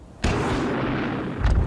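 An anti-tank rocket launcher fires in a WWII battle setting, a loud sudden blast that stays as a sustained roaring rush for over a second, with another burst near the end.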